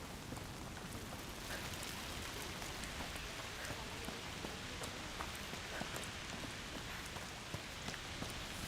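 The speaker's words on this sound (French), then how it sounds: "Saleté de pluie." Steady rain pours throughout a video game scene in A Plague Tale: Requiem, a dense, even hiss of drops on surfaces with small scattered patters, no voices over it.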